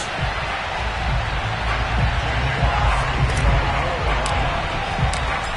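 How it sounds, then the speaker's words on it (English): Stadium crowd cheering in an NFL football video game before a matchup with the Detroit Lions, a loud sustained roar with slight swells and a few sharp higher accents, steady and close throughout. "this crowd is ready to go as their guys will match up with the Detroit Lions."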